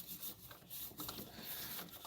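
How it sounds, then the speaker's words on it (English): Soft, dry rubbing and rasping strokes of wax being rolled onto a resin piece repeat in an uneven rhythm close by, faint and scratchy, with no voices. "I take this feed wax and I roll it around the entirety of the piece"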